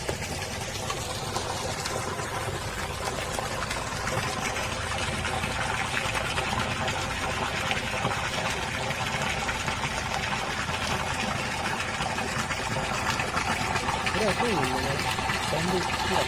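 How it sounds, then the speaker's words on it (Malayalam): Water gushing nonstop from an overflowing tube well pipe, a steady broadband rush with a faint engine-like hum beneath it and occasional voices heard faintly. "ഇത് അവിടുന്ന് തന്നെ ഒഴുകി വരുന്ന വെള്ളം കേട്ടോ"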